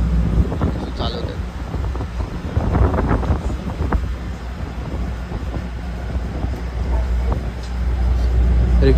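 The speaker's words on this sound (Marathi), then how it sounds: "तर आता गाडी सुरू झाली आहे जेटी" A jetty ferry boat runs with a steady low rumble and rushing wind noise, with faint voices and scattered knocks over the drone.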